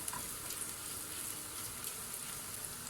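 Onion and tomato paste sauté in a pan for Erzincan tarhana soup, giving a soft, steady sizzle with faint crackles and no talking.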